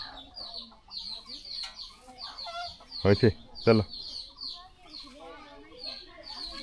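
A hen with newly hatched chicks clucks softly and repeatedly nearby, with high chirps from the chicks throughout. A person speaks briefly in the middle of the clucking.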